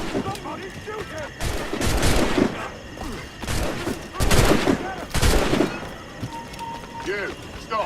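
Gunfire in the pirate action game Assassin's Creed 4 Black Flag comes as several loud bursts of shots, spaced a second or two apart, mixed with shouting voices and clatter.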